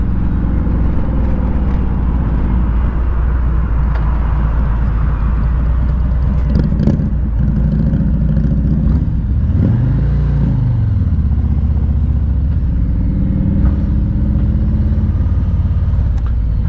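Harley-Davidson Street Glide bagger motorcycle on a test ride, its V-twin engine rumbling steadily and loud throughout, with a brief rise and fall in revs midway and wind noise over the top.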